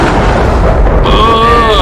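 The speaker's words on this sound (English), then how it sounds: "So, part of your ship, you hear an explosion." An explosion aboard a spaceship in a Star Wars game: a loud, dense rumbling blast that gives way to warbling electronic alarm-like tones.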